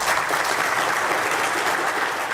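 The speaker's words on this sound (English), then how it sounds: "To another lectern, more applause and another cabinet endorsement, this time for Tom Tugendhat" Steady, sustained applause fills a hall at a political leadership campaign launch, a dense crowd clapping evenly and loudly with no talking over it.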